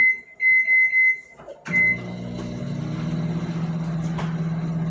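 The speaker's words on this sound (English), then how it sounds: "I put the bag of frozen broccoli in the microwave to steam it" A few electronic beeps sound, then a microwave door thuds and the oven's steady low hum starts running evenly, steaming a bag of frozen broccoli.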